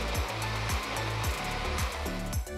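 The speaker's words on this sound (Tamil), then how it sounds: "நல்லா க்ரீமியாக பிளெண்ட் பண்ணுங்க." A blender whirs steadily, blending a sattu protein milkshake with milk, dates, roasted gram and almond powder, with a low motor hum and rhythmic churning pulses, close and continuous without talk.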